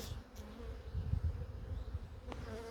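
Honey bees buzz steadily inside a hive's brood box, a low continuous drone that swells and dips slightly, heard close with no talking.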